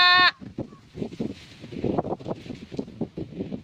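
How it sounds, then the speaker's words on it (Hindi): Goats bleat briefly at the start, a short loud call, then strong wind buffets the microphone as a village scene continues. "छेड़ी बकरी सब बैठी बैठी"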